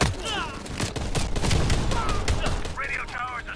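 Gunfire from a 1911 pistol in the video game Call of Duty Black Ops Cold War, a quick burst of sharp repeated shots close by, with game voices and sounds mixed in.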